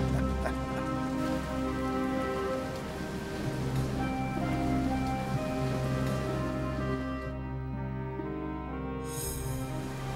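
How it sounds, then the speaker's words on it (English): Cartoon heavy rain falling steadily, a dense continuous patter and hiss over soft background music, lasting throughout. "The rain covered the whole earth."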